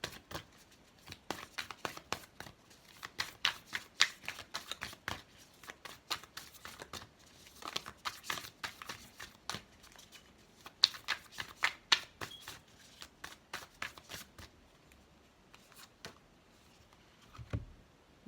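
Oracle cards being shuffled by hand, close and quiet, with rapid riffling flicks and soft papery slaps in repeated bursts, ending in a brief thump.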